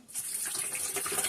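Water streams steadily from a kitchen tap, a close, continuous splashing rush that starts abruptly and keeps flowing without a break.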